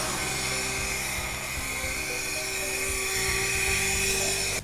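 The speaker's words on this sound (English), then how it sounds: "So we're just gonna do some vacuuming right over here." A vacuum cleaner runs continuously nearby with a steady high-pitched whine and constant motor drone, with no talking over it.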